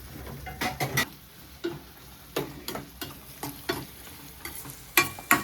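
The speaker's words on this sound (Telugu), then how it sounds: "ఇలా ఉల్లిపాయలు బాగా ఏగాలి." Onions frying in a pan and stirred with a utensil, producing close, sharp scraping clicks in uneven bursts over a soft sizzle, with no one speaking.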